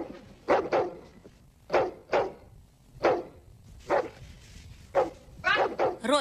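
A dog barks in a dramatic action sci-fi film scene, several sharp close barks spaced unevenly over a few seconds with a low background rumble, the last ones quicker and more strained.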